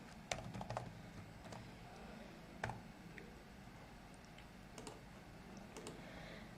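Typing on a computer keyboard while entering code, faint scattered key clicks with a few small bursts of quicker taps over low background hum.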